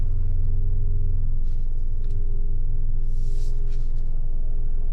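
A car engine idles smoothly after a motor mount repair, a steady low rumble with a faint constant hum, close and continuous, with a few brief higher clicks and hisses above it and no talk.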